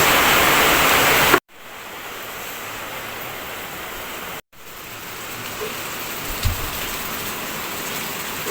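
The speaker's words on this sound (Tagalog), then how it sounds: "lumalakas na naman yung ulan mga paps" Heavy rain pours steadily in a dense, hissing wash at night, broken by two brief dropouts, with a faint thump near the end and no voices.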